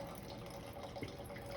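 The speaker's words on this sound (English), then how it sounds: "And then you release a little gas and it pours right into the glass." Red Burgundy wine trickles slowly from a Coravin needle-style dispenser into a glass, a faint, steady liquid pour with a soft gas hiss, quiet and close, no talk over it.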